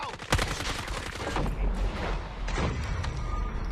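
A frag grenade in a multiplayer shooter, thrown and bursting amid a dense, continuous barrage of gunfire and booms, loud and close throughout with no talking.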